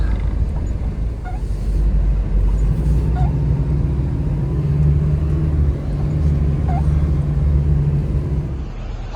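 A car pulling up during a rescue operation, its engine rumbling low and steady at close range for the whole stretch, with faint voices underneath.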